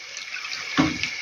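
A brief splash of water poured into a pan, a short gush over a steady background hiss, close and fairly soft.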